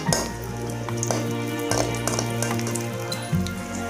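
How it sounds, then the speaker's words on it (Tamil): Cashews and raisins frying in ghee make a steady, light sizzle with faint crackles and an occasional clink, alone throughout. "முந்திரியை வறுத்துக்கலாம்"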